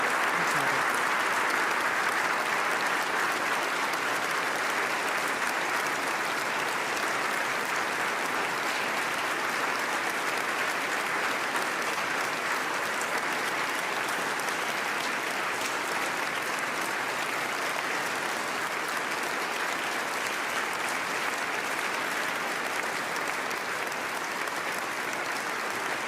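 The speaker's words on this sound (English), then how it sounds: "And the applause continues." Guests in Oslo City Hall applauding after the Nobel Peace Prize lecture, a dense, steady ovation that carries on evenly without a break.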